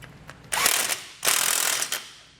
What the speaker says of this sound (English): then we're just going to continue tightening down our hardware